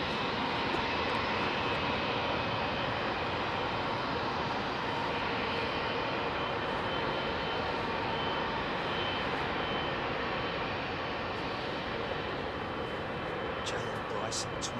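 A Singapore Airlines Boeing 777 departing Heathrow at night, its jet engines giving a steady, distant roar that holds level throughout, with no one speaking over it.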